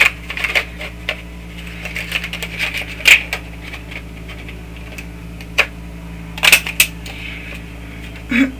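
Scissors snip paper during stamp masking and ink edging crafting, a series of short, sharp, irregular cuts spaced across the stretch, close and fairly quiet over a low background hum.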